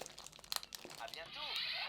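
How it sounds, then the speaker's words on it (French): Packaging crinkles and tears as a computer mouse is unwrapped, giving short close rustles and crunches, with a brief voice-like sound near the end. "je suis en train de déballer la souris."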